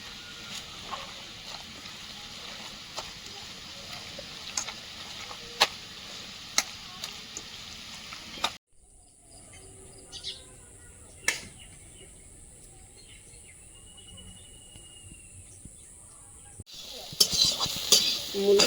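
Spinach greens fry in a pan while being stirred, with a soft sizzle under repeated scraping and tapping clicks from the utensil. The sound drops to a quieter stretch midway, then returns louder near the end.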